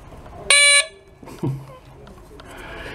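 A short, loud electric buzz from an Onward horn on a Bonanzarad bicycle, sounded once and close, followed by a faint voice and quiet background noise.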